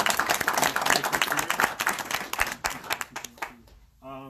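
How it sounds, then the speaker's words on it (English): Applause from an audience at a legislative event for broadband, dense clapping that fades out over a few seconds before a brief tonal sound at the end. "Let's give them a round of applause."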